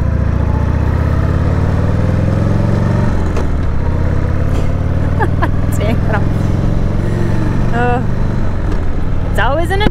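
A Harley-Davidson Sportster motorcycle cruising on the road, its engine droning steadily with a deep, continuous rumble and wind noise throughout, close and loud, with a few faint higher sounds near the end.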